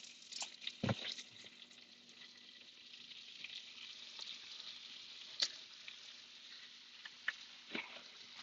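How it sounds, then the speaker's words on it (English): Breaded basa fish nuggets fry in hot oil, a steady soft sizzle and crackle close by, with a few sharper pops and clicks scattered through it. "I'm going to drop it right into the oil."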